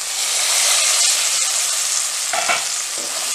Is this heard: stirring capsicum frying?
yes